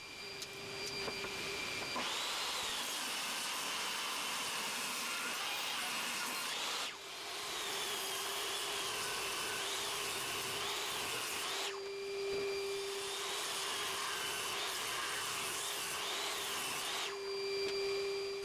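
A table saw rips through 2x4 boards in three long passes, each a sustained whining cut that stops abruptly, with the motor humming briefly between passes.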